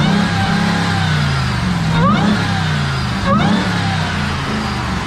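A 2023 Ram TRX 1500's supercharged 6.2-liter Hemi V8 revs twice in quick blips over a rumbling idle, heard from outside the truck, each rev rising sharply then falling back, loud and close.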